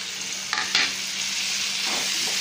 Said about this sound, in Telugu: పసుపు బాగా కలుపుకుని ఫ్రై అయిన తర్వాత ఇప్పుడు మునక్కాయ ముక్కలు